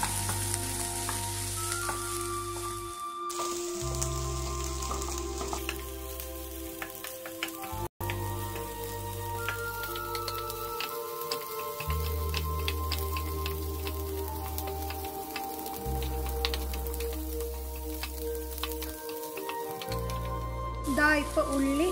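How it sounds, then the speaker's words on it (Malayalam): Onions fry in an uncovered pan for an egg chilli dish, turning brown, with a steady close sizzle and occasional stirring scrapes under continuous background music. "നമുക്കിനി അടപ്പ് തുറന്നൊന്ന് ഇളക്കി കൊടുക്കാം."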